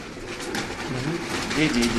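Pigeons coo on a rooftop loft, including a painted, flown pigeon and a newly paired bird, with low soft repeated coos under ongoing speech and steady background noise.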